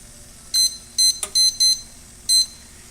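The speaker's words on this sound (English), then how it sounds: "We will set the timer for 40 minutes." An oven timer being set gives five short, bright electronic beeps in an uneven rhythm, with a brief click among them, loud and close against a quiet room.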